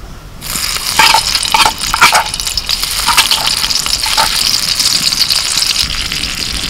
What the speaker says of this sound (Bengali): এবার দিচ্ছি বাটার,